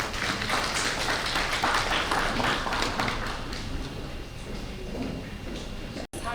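Dense applause from a conference audience welcoming a speaker at a technical session, a steady wash of many hands clapping that holds loud for several seconds, eases slightly toward the end and cuts out briefly near the close.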